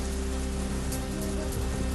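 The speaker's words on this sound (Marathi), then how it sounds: "बारामतीमध्ये वादळी वाऱ्यासह जोरदार पाऊस" Heavy rain with stormy wind in Baramati, a dense, steady roar of downpour hitting surfaces, loud and unbroken throughout, with a low electrical hum underneath.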